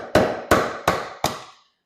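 Four evenly spaced metallic hammer taps on a long flathead screwdriver ring out one after another, each strike fading quickly before the next, while working on a lawn mower's steering wheel.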